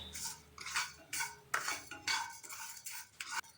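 A metal utensil scrapes and clinks against a pan in repeated stirring strokes while spices dry-roast for chana masala, close and fairly quiet, with no talking.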